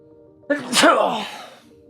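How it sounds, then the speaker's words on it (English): A single loud sneeze bursts out from a man recovering from a spinal fracture. It rises abruptly to a strong peak, then fades into a breathy tail. "let me tell you what a religious experience it is to sneeze"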